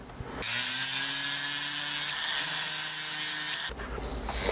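A loud, steady power drill whines through an angel wing earring piece in a long run, briefly easing off and then resuming before stopping.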